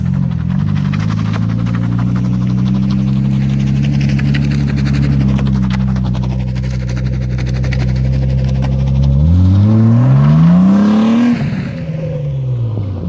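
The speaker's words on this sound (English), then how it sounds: "I'll just set up the tripod and drive around it as sharp as I can, so I'll show you the worst chirping that it can possibly do." A BMW E36 325i drift car with a welded differential circles tightly, its engine droning and revving while the tires chirp and squeal repeatedly, rising sharply in pitch near the end; no voices.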